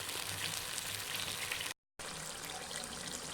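Garlic ginger paste frying with onion and tomato for a turnip and beef curry, stirred in the pan: a steady, close sizzle and hiss that cuts out for a moment, then resumes.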